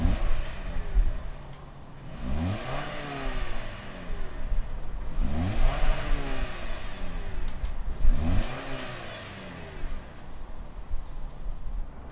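A 2019 Toyota RAV4 Adventure's inline engine turns over and settles into idle, then revs up and down in several rising and falling sweeps, heard loud and close with no speech.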